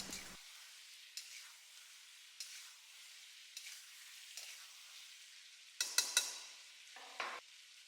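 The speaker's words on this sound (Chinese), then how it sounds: "接着把调好的料汁加进来，稍微用铲子整理一下，煮个2分钟，煮至入味。" Eggplant and egg simmer in a seasoned sauce in a pan, giving a faint, soft bubbling sizzle with occasional light spatula scrapes and a louder cluster of stirring near the end.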